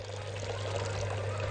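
Boiling water pours steadily and continuously into a pot for cooking rice, a close, rushing splash with a low hum underneath.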